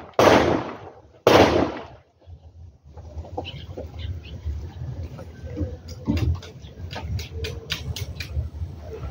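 Two loud sharp gunshots ring out close by at a Coast Guard shooting range, followed by quieter clicks, shuffling and faint voices in the background.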